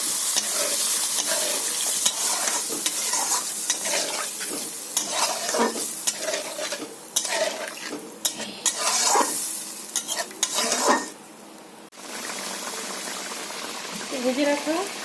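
Fish curry bubbles and sizzles in a pan right after water goes in, with steady frying hiss and frequent stirring scrapes throughout, fairly close and loud, briefly dipping near the end before picking up again.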